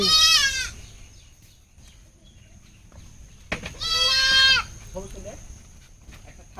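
A young goat kid bleats twice, close and loud, with a quiet stretch of faint background noise between the two cries.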